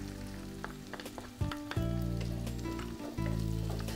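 Shallots, green chilli and Kashmiri chilli powder sauté in hot oil, giving a steady, close sizzle with a few sharp bursts and short dips as the mix is stirred.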